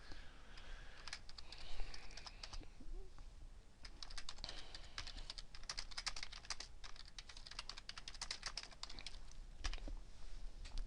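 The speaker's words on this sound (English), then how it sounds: "so now I can continue typing." Rapid, uneven clicking of keys on a computer keyboard, continuous and close, with faint background hiss.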